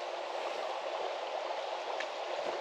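River water rushes steadily nearby while someone walks through it, a continuous even hiss and gurgle with no break and no voices.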